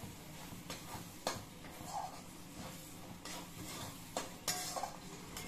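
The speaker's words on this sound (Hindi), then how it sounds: "दो टेबल स्पून घी, और घी डालने के बाद मैं इसे भी थोड़ा चला लूंगी।" A utensil stirs ghee in a pan while cooking besan sabji, faint scraping and light metallic clinks repeating every second or so under low sizzling.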